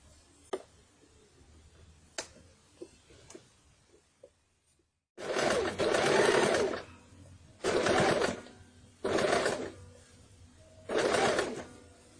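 A sewing machine stitches fabric for a baby shirt. A few soft clicks and taps come first, then four loud close bursts of rapid whirring stitching, separated by short pauses.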